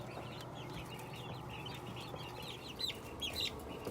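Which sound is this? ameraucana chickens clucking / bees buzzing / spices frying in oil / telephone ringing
ameraucana chickens clucking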